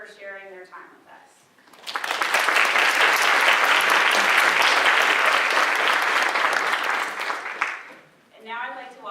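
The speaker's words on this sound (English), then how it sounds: "Please join me with a round of applause in thanking our moderators for sharing their time with us." An evening film screening audience gives the discussion moderators a full, sustained round of applause lasting about six seconds, rising sharply and fading out, with a voice speaking briefly before and after.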